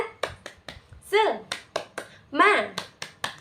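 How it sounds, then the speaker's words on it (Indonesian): Children in a classroom perform a rhythmic spirit clap, sharp hand claps in a quick, steady pattern broken by two loud shouted chants, all close and lively. "Tepuk semangat."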